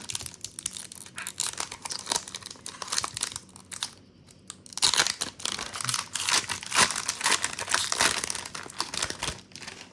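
Foil pack of 1990s basketball trading cards torn open and handled, with steady close crinkling and crumpling of the wrapper and brief tearing bursts throughout, no talk.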